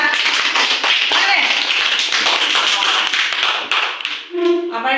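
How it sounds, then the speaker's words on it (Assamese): Schoolchildren clap together at a welcome event, a loud, dense burst of overlapping applause that carries on for several seconds before thinning out, with a voice speaking at the end. "তোমালোকে হাত তালি বজাই দিয়া"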